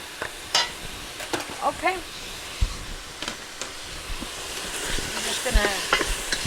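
Sausage and chicken for jambalaya sizzle and fry in a pot while being stirred, with scraping and clinks of the utensil against the pot and a voice talking over the cooking.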